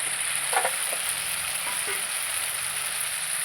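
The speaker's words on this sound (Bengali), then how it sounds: "মাংস দিয়ে দিচ্ছি।" Pieces of chicken stomach meat go into hot spiced oil, and a steady hiss of sizzling frying fills the pan throughout, close and even, with a couple of faint stirring knocks.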